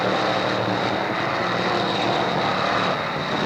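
Race cars at Hickory Speedway roar up the front stretch in a steady, loud, continuous engine blare, with no pauses or voices in the clip.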